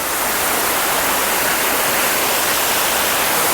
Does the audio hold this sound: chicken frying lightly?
no